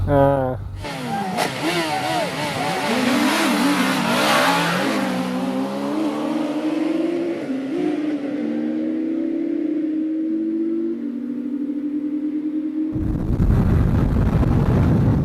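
A high-horsepower sport motorcycle engine revving and pulling hard through bends, a loud rising and falling roar with gear changes up close, fading as it sweeps away, a voice briefly heard over it.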